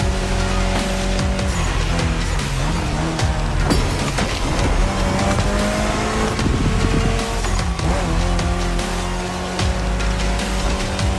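A Mitsubishi Lancer Evolution X drives hard in the video game The Crew Motorfest. The engine stays loud and close, its pitch climbing through the revs and dropping at each gear change, with occasional tire noise.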